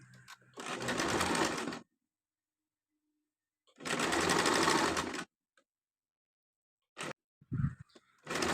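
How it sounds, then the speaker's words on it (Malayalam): A sewing machine stitches down the folded-under edge of a frock sleeve in two steady bursts separated by silence, followed by a few brief handling clicks and thumps near the end. "ഇതിൻ്റെ എഡ്ജ് സൈഡ് നമുക്ക് അടിയിലേക്ക് മടക്കി സ്റ്റിച്ച് ചെയ്യണം ഇതുപോലെ മടക്കി സ്റ്റിച്ച് ചെയ്ത് കൊടുക്കാം"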